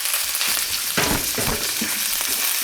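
Cabbage frying in a pan with cumin and tomato paste, a steady close sizzle with bursts of stirring and crackle throughout.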